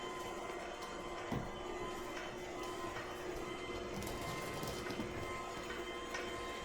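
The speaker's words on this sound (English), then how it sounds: "on a low setting, I'm just going to take my dough hook on my mixer here and slowly kind of get that to try to form into a dough ball" A stand mixer on a low setting turns a dough hook through deep-dish pizza dough, giving a steady mechanical whir and hum with faint rhythmic knocks. It runs continuously and fairly quietly throughout, with no talk.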